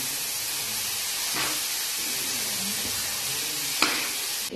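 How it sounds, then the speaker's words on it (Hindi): Grated carrots for carrot halwa being stirred in a pan over low heat, giving a steady close sizzle and hiss with occasional scrapes of the spoon against the pan. "इस तरह चमचा चलाते रहेंगे और आंच धीमी रखनी है।"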